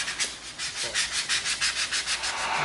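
Close, steady back-and-forth rasp of 220 grit sandpaper smoothing bandsaw marks on EVA foam for a prop, rhythmic rubbing strokes with no talk.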